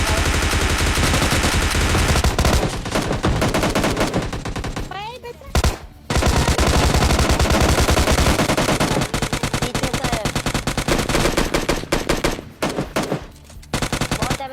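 Gunfire in the mobile battle game PUBG Mobile Lite comes as loud, close bursts of rapid automatic shots, broken by a few short pauses and continuing almost nonstop.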